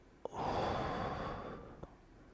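A single deep breath, a long, close, airy inhale that swells and then fades, with soft clicks at the start and end and nothing else around it.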